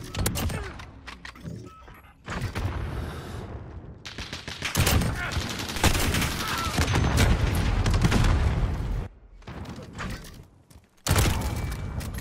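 Dense bursts of rapid gunfire fill a Modern Warfare match, loud and close, with sustained volleys broken by brief gaps, alongside mechanical clatter.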